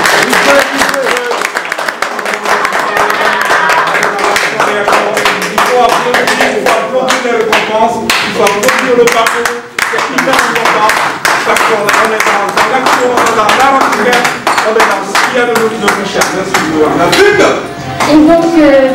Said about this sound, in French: on va applaudir s'il vous plaît parce que c'est important